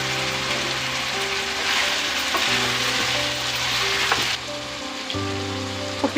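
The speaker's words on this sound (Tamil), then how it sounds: "அதையும் இது கூட சேர்த்திட்டு நல்லா கோல்டன் ப்ரௌன் ஆகிற அளவுக்கு நல்லா ஃப்ரை பண்ணிக்கலாம்." Onions sizzle and crackle in a pan as they fry toward golden brown for a dhaba-style chicken curry. There is a continuous close hiss with occasional stirring scrapes and a low steady hum underneath.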